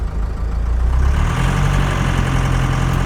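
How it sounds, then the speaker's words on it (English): A compound-turbo 4BT Cummins diesel engine in a 1984 Chevy K5 Blazer idling close by with full exhaust, a steady low rumble with a smooth exhaust drone that holds evenly after a brief rise at the start. "Definitely quieted things down with the full exhaust hooked up and both turbos on."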